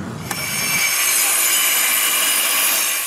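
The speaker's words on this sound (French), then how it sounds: "Une autre petite pause avant de trimer les bancs à la bonne longueur." A saw cuts steadily through a wooden patio bench board to trim it to length, a close, continuous rasping drone that runs the whole time after a brief start.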